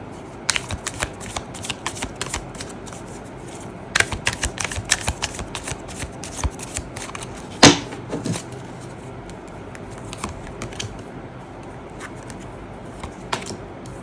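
Tarot cards shuffled and drawn by hand in close, crisp bursts of riffling and flicking, with one louder slap partway through and quieter rustles in between.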